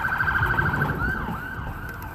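A loud, steady siren wails close by, its tone wavering and sweeping down and back up partway through.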